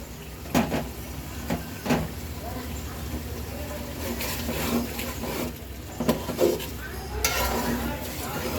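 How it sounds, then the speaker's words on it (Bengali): Chicken with lemon juice, powdered milk, green chillies and spices is stirred in a pan for biryani, giving scraping and clinking knocks at irregular intervals over a steady sizzle and background hum. "এই মশলাটার সাথে ভালো করে একটু কষিয়ে নিব।"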